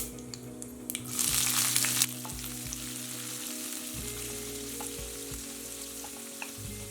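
Thinly sliced medium onion and two green chilies dropped into hot oil with reddened chana dal, flaring into a bright sizzle for about a second, then settling into a softer steady frying with occasional stirring knocks.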